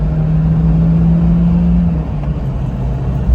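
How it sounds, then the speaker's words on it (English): Daihatsu Terios engine pulling hard in third gear at full throttle, a loud steady drone with a sustained low tone that drops slightly in pitch partway through, heard from inside the car. "So let me do a acceleration test right now."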